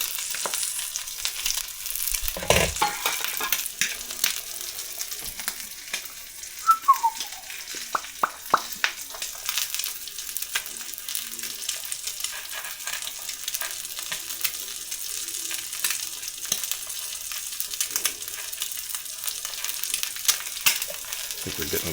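Eggs frying crispy in hot fat in a pan: a continuous close hiss and crackle with small pops, under occasional faint talk, steady from start to end.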